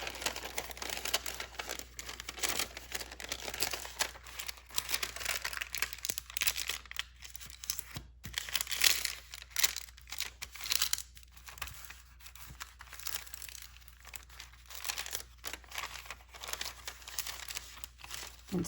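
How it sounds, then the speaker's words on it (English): Crispy tea-stained tracing paper is folded and handled up close, giving continuous dry crinkling and crackling with sharp papery snaps throughout and no speech. "this is a piece of tracing paper that I had tea stained, and I like how it has that sort of crispy sound. So let me just maybe fold that."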